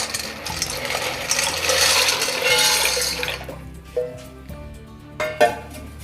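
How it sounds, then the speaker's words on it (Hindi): About two cups of dry pasta tipped into a pot of water, giving a rushing, clattering pour for the first few seconds, then a few separate light knocks and splashes as it settles, close and fairly loud. "अब यहाँ पे 2 कप के करीब पास्ता था, इसको इसमें डाल देंगे हम"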